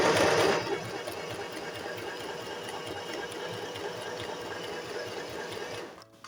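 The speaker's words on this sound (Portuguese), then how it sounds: "Vou começar a costurar normalmente." A domestic sewing machine stitching fabric runs at a steady, continuous whirring hum for several seconds, close and alone, then stops just before the end.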